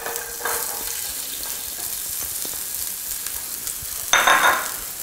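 Shallots sauteing in rendered lamb fat in a pan give a steady, soft sizzle throughout, with a louder burst of crackling near the end as they are stirred or moved around.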